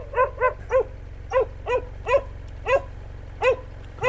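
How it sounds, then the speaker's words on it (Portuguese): A dog barks repeatedly in an uneven series of sharp barks, fairly close, over a low steady motorcycle engine hum. "ele começou a latir igual louco"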